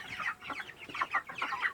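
Chickens on a poultry farm cluck steadily in a close, busy run of short, choppy calls, with no voices over them.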